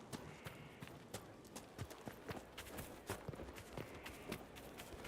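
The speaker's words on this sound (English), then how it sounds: "I forgot about the Ferelden horses" Ferelden horses' hooves in Dragon Age: Inquisition, a steady run of quiet clip-clop beats going on throughout, soft and somewhat distant with no talking over them.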